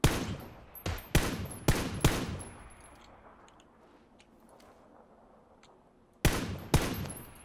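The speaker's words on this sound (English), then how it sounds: "Shots to my left, west of me." Video game gunfire cracks out in sharp, loud bursts, four rapid shots, then a long quiet tail before two more shots near the end, with no voices.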